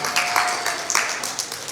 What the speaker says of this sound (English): Clap it up for that answer